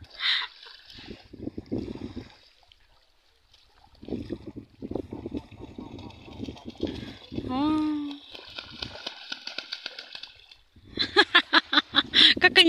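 Geese splashing and paddling about in water, a scattered burst of wet sloshes and flaps with someone talking and chuckling over them, plus brief honking calls near the end.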